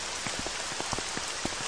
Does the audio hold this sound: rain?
yes